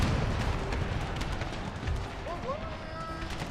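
Cannon artillery fire in the Empire: Total War video game, a dense continuous rumble of distant booms and battle noise, fairly steady and moderately loud, with a few faint whistling tones near the end.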